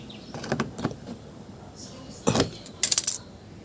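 Scissors snipping material off a car muffler, with a few sharp, close clicks and snips in short bursts separated by quiet pauses.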